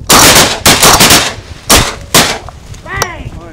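Shotguns fire during a teal duck hunt, several loud, close blasts in quick succession with a pause before a final pair, followed by brief shouting.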